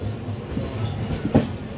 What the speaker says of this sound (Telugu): కజీపేట్ నుండి బయలుదేరాక మన ట్రైన్ ఇలాగైతే వరంగల్లో